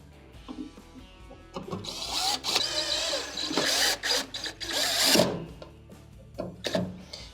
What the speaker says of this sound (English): we can go ahead and secure the waveguide with the screws that we removed earlier